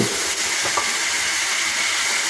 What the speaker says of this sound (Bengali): মশলা পেঁয়াজ সব ভেজে নিয়ে যদি মাংসটা যদি ভাজা ভাজা করে নেন